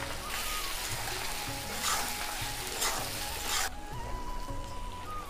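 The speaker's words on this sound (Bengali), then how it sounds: "আমি রসুন বেটে নিয়েছিলাম দিয়ে দিচ্ছি।" Garlic paste sizzling in a pan of frying banana flower, a steady loud crackling hiss with faint stirring scrapes, and no talk.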